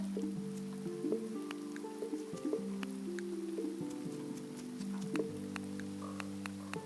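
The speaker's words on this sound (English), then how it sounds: "It's just rain." Steady rain in the video game Grimshire patters in the background beneath sustained tonal music, with scattered drip-like ticks throughout.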